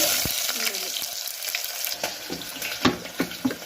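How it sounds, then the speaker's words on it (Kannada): Crackling pops and spits from mustard seeds spluttering in hot oil, irregular and close, growing sharper toward the end. "ಸಾಸಿವೆ ಸಿಡಿತಲ್ವ"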